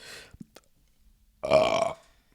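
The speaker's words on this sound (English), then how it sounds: "I keep burping today" A single loud, drawn-out burp lasting about half a second, following a short breathy sound and a brief quiet pause.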